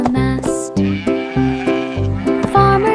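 Sheep bleating in a children's song, a series of loud, wavering bleats repeating roughly every half second, close and clear with no talk.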